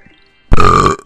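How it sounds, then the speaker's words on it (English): A single loud, close burp lasts about half a second and stands alone after brief quiet. "It just appears that I have burped on a commentary."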